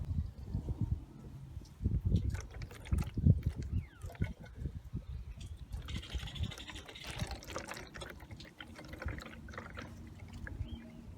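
Water from reversed hoses rushes and gurgles while flushing the heater core of a 2009 Toyota Sienna, an uneven, splashing flow with irregular bursts and trickles, fairly faint and close.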